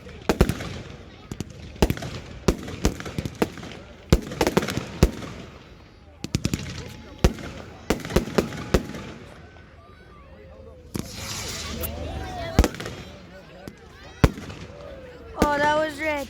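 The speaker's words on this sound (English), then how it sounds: "There's so many fireworks." A large fireworks display before a big crowd sends out a rapid series of sharp, loud bangs and crackles, some in quick clusters and some spaced apart, with people talking and exclaiming between the blasts.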